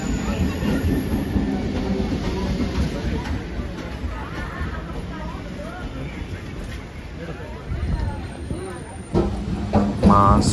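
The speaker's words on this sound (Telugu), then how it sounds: "చెన్నై బీచ్ స్టేషన్కి సంబంధించిన ట్రైన్ అయితే వస్తూ ఉంది." A Chennai Beach local train arrives at the station with loud rumbling, rhythmic wheel clatter and rising screeches, heard near with people talking over it.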